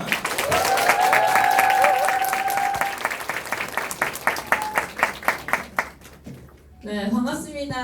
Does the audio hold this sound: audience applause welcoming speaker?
yes